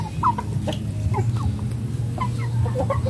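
Chickens cluck during feeding: short, repeated clucks near and far over a low steady background hum, with no talk.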